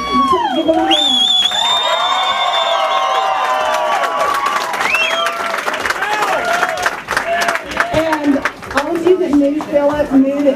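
A festival audience at Lone Star Grill cheering, whooping and clapping, a loud, dense wall of crowd noise with shouts and applause sustained throughout, voices rising and falling close by.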